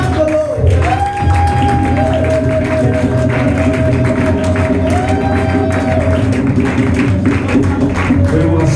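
A church congregation at an evening prayer vigil applauds and cheers in praise, a dense, steady wash of clapping and voices that holds loud throughout, with music tones sustained underneath.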